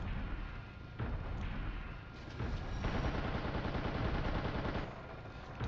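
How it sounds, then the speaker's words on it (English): A mech fires rounds in the Xbox game Steel Battalion, heard as loud, continuous rapid-fire bursts over a dense mechanical rumble, the rounds stopping and starting in several long stretches. "And then I do fire off a few rounds."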